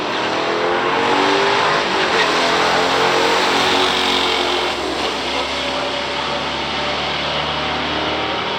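Loud roar of a 1966 Chevrolet Chevy II and a 1967 Pontiac GTO accelerating hard down a drag strip, a steady sustained engine blare with no voices.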